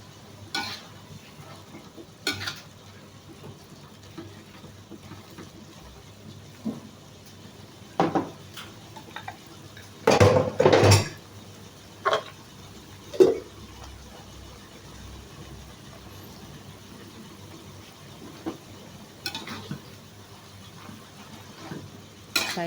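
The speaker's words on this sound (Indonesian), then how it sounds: "Saya balik lagi kangkungnya sampai lembut benar ya." Water spinach stir-frying in a pan with spicy seasoning, heard as soft sizzling beneath scattered clanks and scrapes of a utensil against the pan, with a cluster of louder knocks midway.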